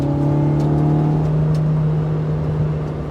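A JDM ITR B18C-swapped 2000 Honda Civic Si engine holds a loud, steady droning tone with strong intake noise, running continuously and close with little change in pitch.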